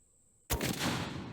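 A Solothurn 20mm anti-tank rifle fires a single, very loud, sharp shot after a quiet moment, followed by a heavy, rolling boom that fills the rest of the moment outdoors.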